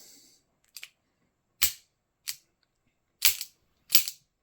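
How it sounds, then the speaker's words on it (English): Sharp metallic clicks from dry trigger pulls on an unloaded Webley MKVI CO2 BB service revolver, five distinct snaps spaced irregularly across a quiet background, close and crisp. "So you can pull the trigger, see where it engages the barrel."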